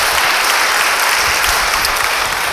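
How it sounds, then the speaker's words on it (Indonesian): A church congregation applauds steadily during a sermon, a dense wash of clapping from many hands that stays loud and even throughout. "Yang percaya beri tepuk tangan bagi dia."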